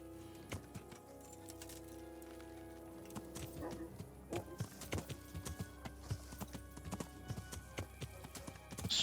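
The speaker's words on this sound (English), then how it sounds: "Let's call the horse." Irregular hoof clops of a video game horse on hard ground, sparse at first and growing quicker and louder toward the end as it approaches.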